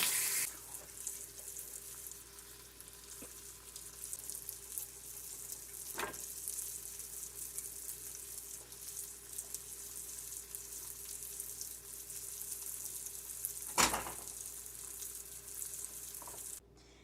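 Ground beef, tomatoes and rice frying with a touch of butter in a pan, a steady hiss of sizzling throughout, close and quiet, with a couple of brief louder clatters from stirring.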